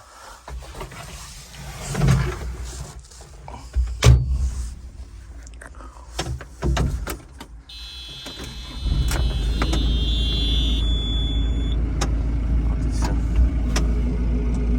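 A JCB 527-58 agri telehandler with forks and automatic transmission: cab clicks and handling noises come first, then the diesel engine starts and settles into a loud, steady low rumble with a faint whine.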